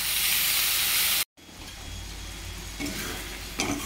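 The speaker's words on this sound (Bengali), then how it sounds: "এবারে হচ্ছে আমি ম্যারিনেট করা মাছটা দিয়ে দিচ্ছি।" Marinated lote fish drops into hot spiced oil with a loud, bright hiss that cuts off for a moment, then settles into a softer, steady sizzle.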